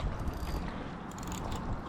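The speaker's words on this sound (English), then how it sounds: "What would happen if I loosened my drag a lot?" Fishing reel drag loosened on a lake, giving a rapid mechanical ratcheting click that runs steadily and close for under two seconds, with no talking.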